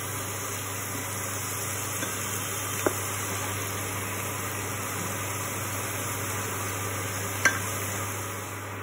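Potatoes frying in oil in a kadai, a soft continuous sizzle over a steady background hum, with two faint clicks of utensil contact partway through and no talking.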